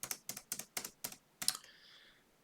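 Six quick keystrokes clack in an uneven burst on a computer keyboard, close and crisp, then a short faint high tone trails off in a quiet room.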